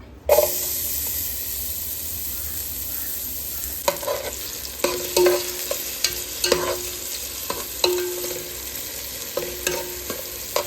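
Onion fries in coconut oil under a constant hiss, broken by repeated scraping stirs of a utensil in the pan at irregular intervals, up close.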